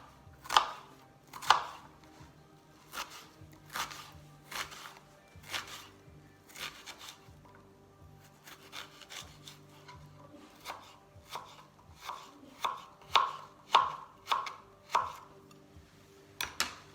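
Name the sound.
knife chopping an onion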